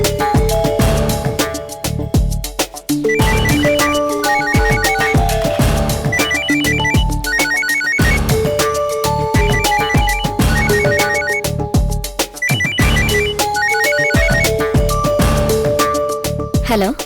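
A phone ringtone plays loudly on speakerphone in a Tamil TV serial scene, a repeating melodic ring cycling several times over roughly seventeen seconds.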